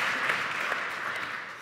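Audience clapping at a panel discussion on inclusion in Pittsburgh, a brief burst of steady, moderately loud applause that eases slightly toward the end.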